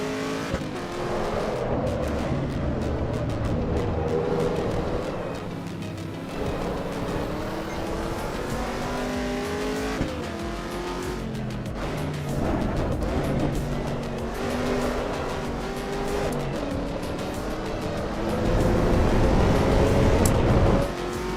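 Race cars with differing horsepower and grip levels, including a BMW M8 and M4, roar around a track in Assetto Corsa EVO, engines droning steadily with gear shifts, passing cars and tire squeal throughout.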